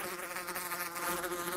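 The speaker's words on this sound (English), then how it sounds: "Shut up, bee!" A bee in the video game Minecraft buzzes loud and close in a continuous, wavering drone that holds steady throughout, with no voices over it.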